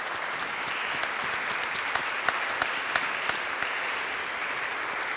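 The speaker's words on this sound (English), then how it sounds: "a round of applause for our musicians who've worked hard on this for the last couple of months" Sustained audience applause for the musicians at a church Tenebrae candlelight concert of Mozart's Requiem, a steady wash of many hands clapping with a few sharper claps standing out, no voices.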